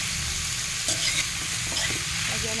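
Bitter gourd (ampalaya) being stirred in a hot frying pan, with a steady sizzle and scraping utensil strokes close up, no voices.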